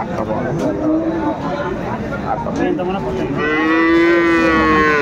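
Dairy cows and calves moo loudly and repeatedly amid a busy crowd at Aftabganj cattle market in Dinajpur, with people talking in the background, ending in a long, drawn-out low.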